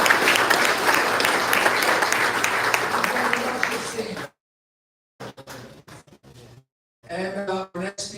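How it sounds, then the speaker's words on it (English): Audience applause at a cricket event in New York, dense clapping from a crowd lasting about four seconds, then silence, followed by scattered sounds and someone talking. "Round of applause."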